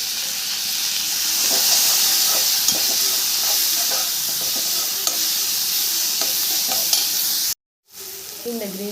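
Onions with one and a half chopped tomatoes sautéing in a pan for a paneer gravy, a loud steady sizzle and hiss with scraping stirs, briefly cut by a short silence near the end.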